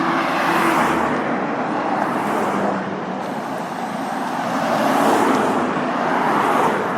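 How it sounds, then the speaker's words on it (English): A stream of cars passes on a road in the Blenkinsop Valley, a continuous rushing swell of tyres and engines that rises and falls as vehicles go by, fairly loud and near, with no voices. "as I pause for a stream of cars"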